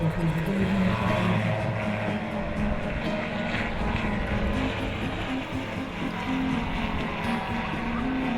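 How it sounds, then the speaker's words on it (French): Jet aircraft flying in a demonstration at the Saly air show, a loud continuous engine roar with a steady rumble holding throughout, close and dominant. "Vous allez voir des avions voler devant vous."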